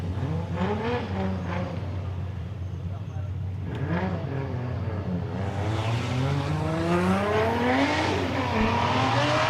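BMW E46 drift car on track at Agassiz Speedway during drift qualifying, engine revving and rising in pitch as it initiates a slide, loud and continuous under a commentator's voice.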